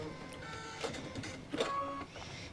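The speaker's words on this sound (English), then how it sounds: "We'll trim this a little shorter again and let the ornament stitch out." An embroidery machine stitches out an in-the-hoop Christmas ornament gift tag, a close mechanical whir with rapid needle chatter and short tonal whines that rise and fall as the stitching moves, loud and uninterrupted.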